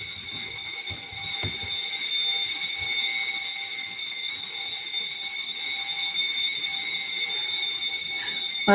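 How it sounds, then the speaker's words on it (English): A building fire alarm sounds continuously, a steady, piercing high-pitched electronic tone with layered harmonics, loud and unbroken from start to finish, with faint room noise and a brief knock underneath. "Well, that's a fire alarm."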